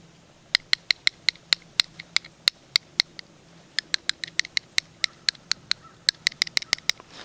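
A quarter tapped inside a cupped hand imitates a squirrel call: sharp, dry clicks in quick bursts, with a brief pause midway before a second, denser run of taps. The clicks are close and crisp over a quiet background.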